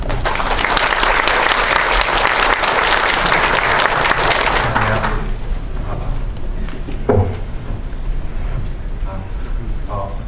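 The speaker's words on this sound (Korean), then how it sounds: "많은 박수 부탁드립니다." A seminar audience breaks into loud, dense applause that lasts about five seconds and then stops abruptly, followed by quieter room noise and a voice beginning to speak.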